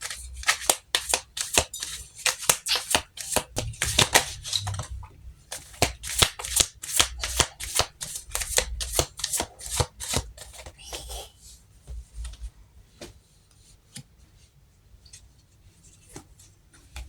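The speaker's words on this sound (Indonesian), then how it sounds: "Oke, langsung kita shuffle kartunya" Crisp, rapid riffle-and-snap of tarot cards being shuffled up close, in repeated bursts that fade and thin out toward the end, with no speech over them.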